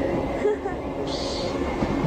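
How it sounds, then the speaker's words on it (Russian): A train runs at high speed in playback footage, giving a steady low rumble and rolling rail noise throughout, with someone talking over it. "что с одной стороны поезд едет на большой скорости."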